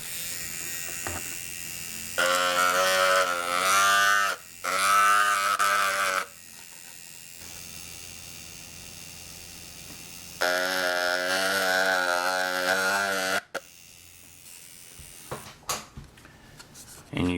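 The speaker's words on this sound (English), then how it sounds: "my coil machine, you will see that it won't even go through this plastic." A coil tattoo machine run at very low voltage buzzes in several bursts of a few seconds each as it presses against a piece of plastic, giving a harsh, steady electric hum that starts and stops, with quiet handling noises in the gaps.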